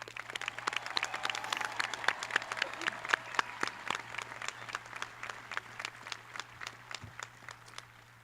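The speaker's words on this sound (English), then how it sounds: "Audience, please join me in a round of applause to congratulate the class of 2025" A high school graduation audience claps in applause for the graduating class, a thinning patter of individual hand claps over a steady low hum, fairly faint and fading toward the end.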